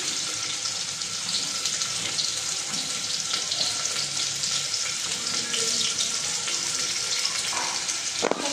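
Carrots, potatoes and onions fry in a pan with a loud, continuous hissing sizzle, close up and steady throughout, with no talk.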